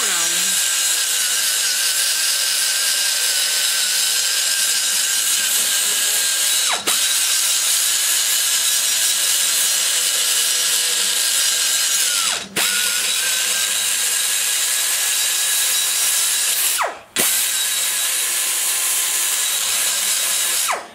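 A grinding stone ports a Chevy LT-1 cylinder head, giving a steady, loud, high-pitched grinding whine that runs almost continuously, broken by three brief pauses where the tool lifts off the metal.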